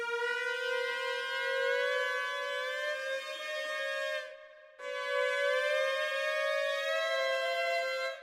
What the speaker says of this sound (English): Let's just see what happens actually when we go through the range of the pitch bend wheel from the bottom.